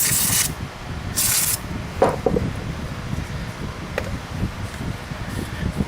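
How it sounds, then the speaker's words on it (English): Two loud bursts of aerosol spray hiss out as parts of a Polaris Sportsman ATV rear CV axle are cleaned, followed by faint rubbing and light handling clicks close by. "I'm just going to spray them off."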